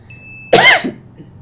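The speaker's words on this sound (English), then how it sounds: "And notice I'm starting to cough," A single person gives one sharp, close cough with a brief throaty tail, alone in an otherwise quiet room.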